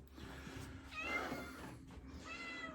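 A house cat meows near a garage door, two drawn-out calls with a short pause between them, close and clear over a low background hum.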